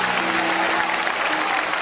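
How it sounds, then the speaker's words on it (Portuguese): A congregation at an Assemblies of God service claps in praise, a short, dense burst of applause from a large crowd, steady and loud throughout. "Aplauda o Rei Jesus"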